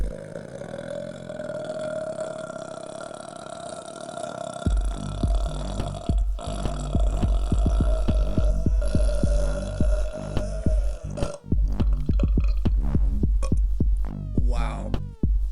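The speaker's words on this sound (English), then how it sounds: "I'm gonna try and make the longest burp ever." A single drawn-out human burp rumbles on for about ten seconds after a quiet opening, loud and close, throbbing and gurgling as it goes with no talking over it.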